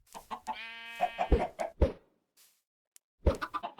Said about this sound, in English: The chickens are starting to reproduce.